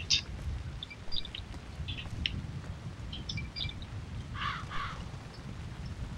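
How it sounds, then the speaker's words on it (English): Crows in the ZombiU survival horror game on Wii U give short, scattered caws at moderate distance over a low ambient rumble, with a brief pair of louder calls near the end. "Crows again?"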